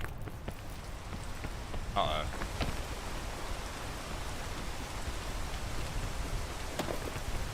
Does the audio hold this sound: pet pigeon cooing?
no